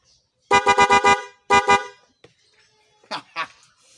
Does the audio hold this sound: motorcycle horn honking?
yes